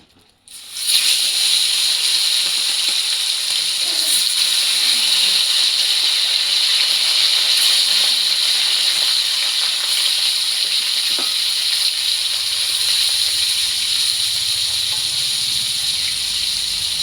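Rohu fish hits a hot pan of oil for a curry with eggplant and spinach, setting off a loud, steady sizzling hiss that goes on without a break.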